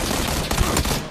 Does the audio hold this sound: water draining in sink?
no